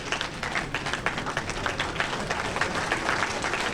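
Teachers at a training event stand and clap for themselves, a dense, continuous round of applause from a large indoor crowd, steady and fairly loud throughout with no speech.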